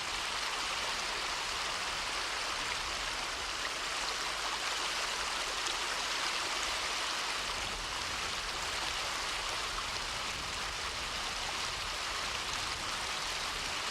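River water runs steadily at an angling spot in the Algarve, a constant broadband rushing with no pauses and no voices.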